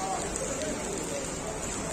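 Steady heavy rain pours down outdoors in stormy Hamburg weather, a dense, even hiss of drops spattering on surfaces with no break throughout.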